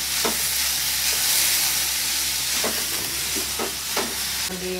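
Okra (lady's finger) stir-fries in a pan, giving a steady loud sizzle with occasional soft clinks and scrapes of stirring, no voices.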